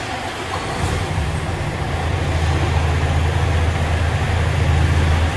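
An Iveco truck engine with a Euro 6.2 AdBlue SCR and DPF setup turns over and settles into a loud, steady diesel idle rumble heard up close.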